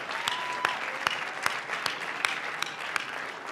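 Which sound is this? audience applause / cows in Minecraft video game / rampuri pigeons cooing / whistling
audience applause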